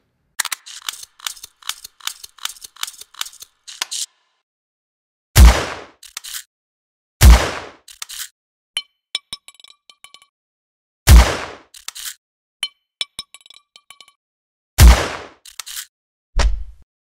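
Homemade shotgun sound effects for a video game: rapid mechanical clicks and rattles, then four heavy booming blasts, each followed by pump-action clacks and a final low thud, loud and dry with no voices.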